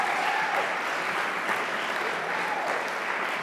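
Steady applause from an audience at a Boy Scout troop's 101st anniversary celebration, dense and continuous clapping throughout, fairly distant with no voices standing out.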